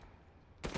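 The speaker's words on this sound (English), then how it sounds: "Fire cannon" A cannon blast in Resident Evil Village during the Heisenberg boss fight, a sudden loud boom arriving at the very end after a low droning rumble.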